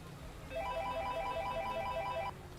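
A phone rings with an incoming call: a bright, repeating electronic ringtone trills in quick regular pulses for nearly two seconds, then stops over a quiet background.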